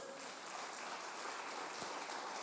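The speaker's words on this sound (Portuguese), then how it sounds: "As palmas para Deus." A church congregation claps during a Portuguese-language sermon, a faint, steady patter of applause heard at a distance throughout.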